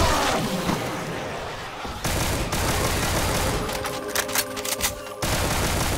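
Dense automatic gunfire from the Doom Project Brutality mod, a loud, continuous barrage of rapid shots with crashing impacts. It briefly cuts out around the two-second mark, then resumes with sharp bursts before tapering off.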